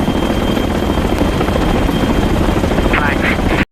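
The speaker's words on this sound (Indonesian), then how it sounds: "terlihat sebuah helikopter tempur mendarat dengan membawa perbekalan makanan dan amunisi" A loud, close military helicopter roars as it lands in a desert, with a dense rotor wash, cutting off abruptly at the end.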